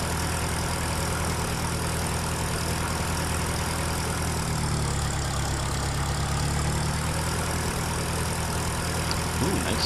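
Small Case tractor engine idling in Farming Simulator 2013, a steady low rumble that holds evenly throughout with a slight shift in pitch midway.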